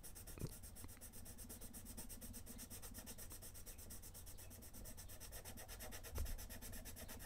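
A graphite pencil scratches across paper in a quiet, close, continuous rasping with small rhythmic strokes and a couple of light taps, with no talking.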